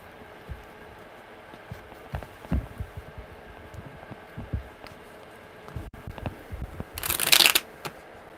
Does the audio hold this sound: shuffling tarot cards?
yes